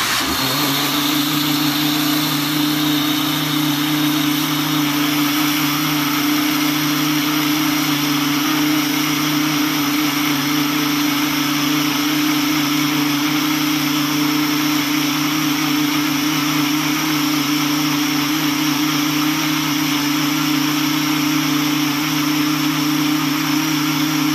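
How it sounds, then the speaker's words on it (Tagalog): A blender whirs continuously and loudly at an even pitch, grinding dry rice with a steady motor drone and no pauses. "Ngayon, i-blender ko na siya mga kerog."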